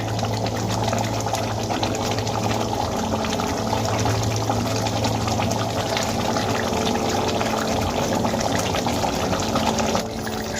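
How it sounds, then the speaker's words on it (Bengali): A spoonful of mustard oil spread over prawn curry in mustard paste that has been boiling a long while, heard as a dense continuous bubbling and hissing wash, close and loud, that ends abruptly near the close. "এবার আমি এর ওপর থেকে 1 চামচ সর্ষের তেল ছড়িয়ে দেব।"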